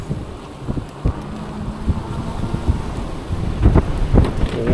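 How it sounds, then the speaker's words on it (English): Heavy wind buffets the microphone of a rider on an eBike at night in a city, a steady loud rumble with gusting swells and occasional knocks. "Wow, it's wind."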